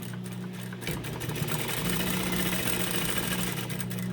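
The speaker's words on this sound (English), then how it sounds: "And then putting it in and stitching maybe just under 5/8." A sewing machine stitches a seam on a fabric drawstring bag, running loud and close with a steady mechanical hum and rapid needle clatter that starts up after a brief moment and continues unbroken.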